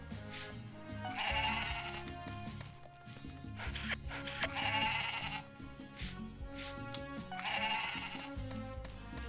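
Goats bleat in the farming game Story of Seasons: Pioneers of Olive Town, with three drawn-out, wavering cries at regular intervals over a soft, steady background of game music.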